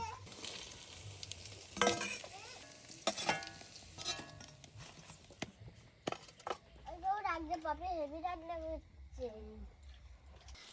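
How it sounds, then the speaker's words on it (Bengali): Pointed gourd leaf fritters frying in oil give a crackling sizzle, loud at first, then fading behind a voice and other talk, with occasional utensil clinks. "পটল পাতার বড়াগুলো দেখতে দেখতে সব ভাজা হয়ে গেল"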